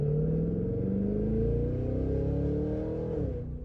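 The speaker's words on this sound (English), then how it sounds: "let me go V mode, manual mode, downshift" A 2023 Cadillac Escalade V's V engine revs loudly and close up on a manual downshift, the deep rumbling tone climbing in pitch through the burst before easing off at the end.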